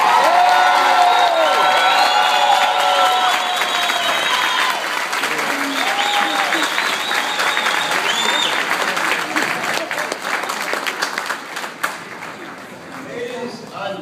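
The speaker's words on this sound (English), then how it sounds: "Let's give him one more round of applause." Audience applause at a Brooklyn event introducing a speaker, a dense, loud round of clapping with scattered cheers and whoops, sustained throughout and slowly tapering toward the end, with some crowd voices mixed in.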